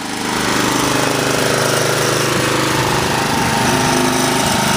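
A lawn mower engine runs loud and close with a dense, rapid chugging rattle that holds steady after a quick rise, with no voices.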